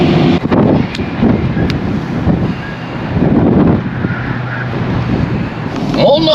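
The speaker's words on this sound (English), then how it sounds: "Once in a while I get a gust of wind." Heavy wind gusts buffet a Ford Fiesta driving north on the I-35 highway, a loud, continuous roaring rush with muffled road noise. Brief thumps and rustles come up close inside the cab.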